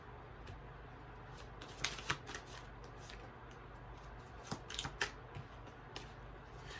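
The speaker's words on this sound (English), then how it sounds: "let's get some more cards out for Journey" Tarot cards are shuffled and drawn at a quiet table, with soft riffling flutters and several sharp snaps and slaps as cards come off the deck.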